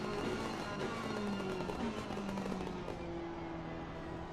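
Crackling, popping exhaust of a Porsche 911 GT3 Cup car in a racing video game, with engine tones rising and shifting in pitch as it accelerates down a straight, heard fairly faint and continuous.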